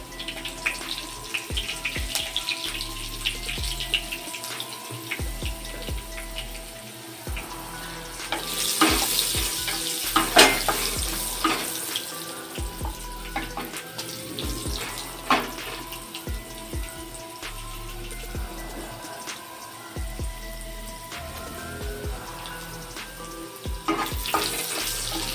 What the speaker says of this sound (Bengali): লাল লাল করে আলুগুলো ভাজবো আমি।